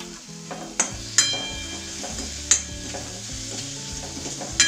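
Onion mixture with a pinch of salt frying in a pan for mixed-dal parathas, a continuous sizzle broken by several sharp spatula clinks and scrapes against the pan, close up with no voices.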